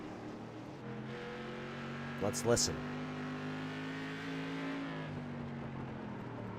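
Stock cars drone steadily around the track under caution with a rising, whining pitch, while a voice speaks briefly over the continuous motor noise.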